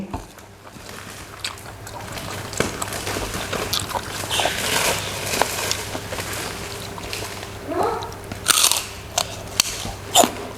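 Crunchy biting and chewing of spicy squid and crab salad, loud close crunches repeating irregularly, with a few louder bites toward the end.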